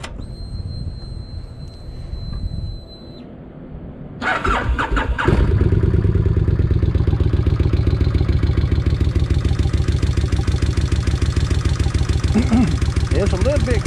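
A Kawasaki Vulcan 1600 motorcycle engine cranks and fires at close range after fresh oil, then settles into a loud, steady idle with a rhythmic valvetrain clatter.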